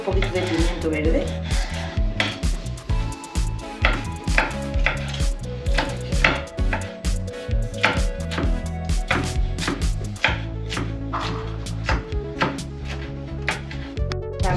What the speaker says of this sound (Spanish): Vamos a empezar cortando un poquito de pimiento verde.